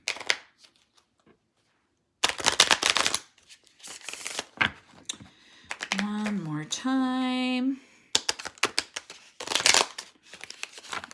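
Bursts of crisp oracle card shuffling, riffles and rustles, interrupted by short spoken phrases and a brief sung or hummed melody in the middle.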